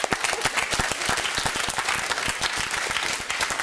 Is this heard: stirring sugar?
no